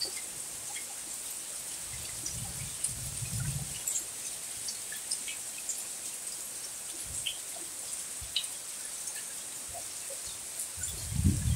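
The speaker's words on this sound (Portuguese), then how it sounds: "Forte chuva mesmo." Heavy rain falls steadily in Brejo Santo, Ceará, a constant soft hiss with scattered drips, and faint low thunder rumbles in the distance near the start and end.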